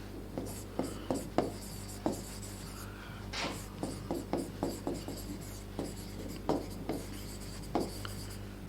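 Marker or chalk writes on a board during a science lecture on measurement, giving a string of short, close scratchy strokes in an uneven rhythm over a low steady hum, with no talk.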